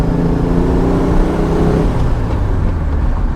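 A 1968 VW Type 3 engine runs loud and close with an uneven, rough idle that rises and settles, a dense steady rumble with no talk over it.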